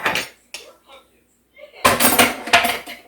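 Apple spice oatmeal muffin batter is scooped into a sprayed muffin pan, making close clinks and scrapes of utensil on metal in short bursts. A person talks over part of it.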